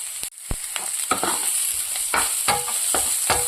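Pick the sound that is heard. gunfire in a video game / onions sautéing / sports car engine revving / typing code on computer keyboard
onions sautéing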